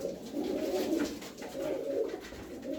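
Arab frame tumbler pigeons cooing in a steady, low murmur that swells and fades in two long waves, fairly close and continuous with no talk.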